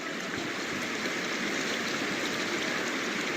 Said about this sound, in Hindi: तो हमने लिया ये बहता हुआ पानी